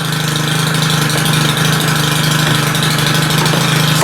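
A four-stroke weed wacker idles steadily close by with an even, throbbing mechanical hum, loud and unbroken.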